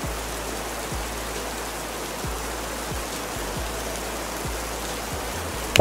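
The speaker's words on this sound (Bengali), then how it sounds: "হ্যাঁ, এটি বৃষ্টির শব্দ।" Steady rain falls in a continuous, even hiss, with a few faint low thumps scattered through it and no voices.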